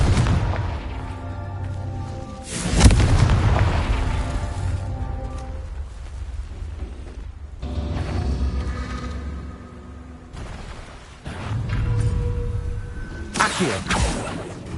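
Confringo explosive spells go off in the Hogwarts Legacy video game, with several loud booming blasts separated by rumbling, whooshing game effects.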